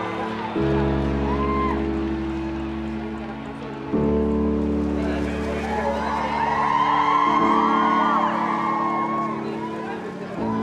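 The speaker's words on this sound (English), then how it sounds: "Everyone was screaming, trying to get the pictures and videos." A crowd outside St. Mary's Hospital in London screams and cheers as the royal family emerges with a newborn baby, a loud, dense roar of excited voices building over steady background hum.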